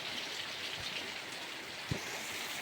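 Steady rain pours over a farm field at night, a dense, even hiss of drops with a couple of faint low thumps, continuous and close.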